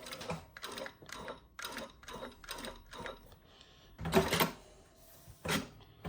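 A Juki DDL-8000A industrial sewing machine stitches in short, rhythmic bursts, about six evenly spaced runs followed by two louder, longer runs, close up and with no talking.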